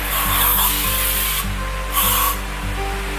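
Lemon-scented Pledge polish is sprayed and wiped across wooden furniture with a cleaning cloth, loud hissing and rubbing bursts in uneven strokes over a steady low hum.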